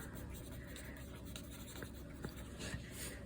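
A pencil scratches across a Christmas planner sheet in short, faint strokes and taps, close up and quiet, with no talking.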